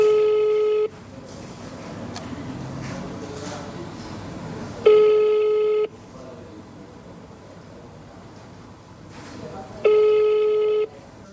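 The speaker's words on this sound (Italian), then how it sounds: "L'URP ha 2 numeri di telefono, abbiamo provato su entrambi ma non risponde nessuno" Phone calls to the public office of the Sicilian motorway consortium ring out unanswered: three separate steady rings, evenly spaced about five seconds apart, with a low hiss filling the gaps.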